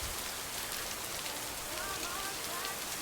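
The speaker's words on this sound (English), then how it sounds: "I love that it rains in this game. Nothing makes a game cozier than rain and good rain sounds." Rain in a cozy lakeside video game, a dense, steady hiss of falling drops pattering on surfaces, even and continuous throughout, with faint tonal chirps partway through.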